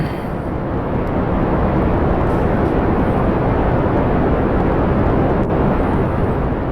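Rocket launch with solid boosters in Kerbal Space Program, a loud, steady, broadband roar that holds constant throughout without a break.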